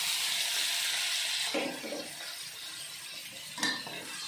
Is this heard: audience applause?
no